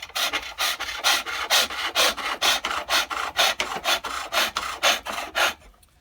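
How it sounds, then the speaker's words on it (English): A parting tool cuts a slot in a wooden spindle on a pole lathe: rhythmic rasping scrapes, about a dozen even strokes roughly every half second, close and clear, stopping just before the end. "And then I'm using a parting tool,"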